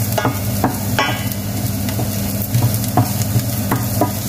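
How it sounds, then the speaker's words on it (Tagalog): Ginger browning in hot oil in a pan, a dense continuous sizzle with regular scraping taps of a spatula stirring about twice a second, close and fairly loud, no speech. "Ayun lang natin mag-brown ang luya."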